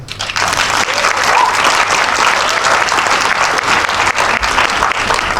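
At the Cannes comedy gala, a theatre audience breaks into sustained, even applause in answer to the comedian's question, the clapping staying strong and dense throughout the few seconds.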